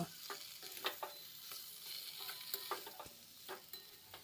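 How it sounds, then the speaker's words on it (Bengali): Boiled potato pieces are stir-fried with spices in a pan, giving a faint, steady sizzle. A spatula scrapes and taps in an irregular rhythm over it. The sound is close but quiet, with no voices. "এবার সেদ্ধ আলুটা দিয়ে মশলার সাথে আরও কিছুক্ষণ এইভাবে কষিয়ে নেব"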